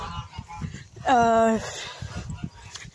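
Hens and geese calling at a henhouse on a windy day, a single loud honking cry standing out briefly among lower clucks and rustling, with someone talking nearby.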